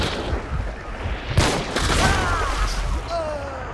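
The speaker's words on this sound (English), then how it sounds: "dual wielded pistols" Dual-wielded pistols fire in Hunt: Showdown, a sharp crack followed by a rapid, dense burst of shots over steady game ambience, with players talking over the action.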